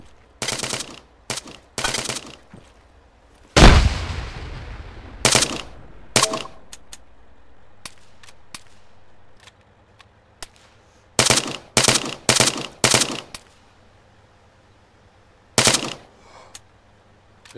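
Bursts of automatic gunfire in Arma 3, laid down as suppressing fire, come in short loud rattling volleys separated by pauses, with one heavier blast early and a scatter of single distant shots between the volleys.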